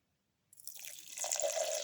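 Milk poured into a blender jar for a blueberry carrot smoothie, a soft steady liquid stream that starts abruptly and grows slightly fuller as it continues, close and alone.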